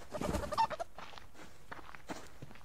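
A chicken in the survival game Subsistence gives a burst of close clucks at the start, followed by quieter scattered clucks and soft movement.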